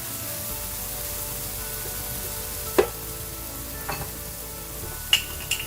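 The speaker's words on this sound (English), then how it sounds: "I'm going to toss this in the garlic and tomato mixture and gently cook the portobello down" Portobello mushroom sizzling in a garlic and tomato mixture, a steady soft hiss of frying with a few light clicks and clacks of stirring, close and alone.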